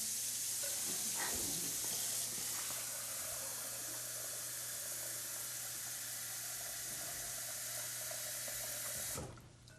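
Water pouring steadily into a soup pot, about ten cups' worth, a continuous close splashing rush that runs for nearly the whole stretch before cutting off abruptly near the end.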